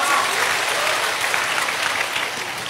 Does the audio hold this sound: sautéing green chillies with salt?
no